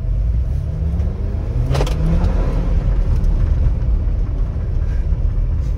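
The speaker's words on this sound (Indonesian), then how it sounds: "Suara turbonya kencang." Revving engine of a 2022 Jeep Wrangler JL Rubicon four-door with a turbo, a loud, close, continuous roar that swells and climbs in pitch as the throttle is pressed, with no talking over it.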